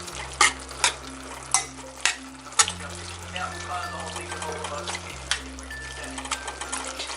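Spaghetti sauce bubbles and is mixed in a pot, a low simmering hiss with a string of soft spoon knocks and scrapes at the start, then steadier faint bubbling.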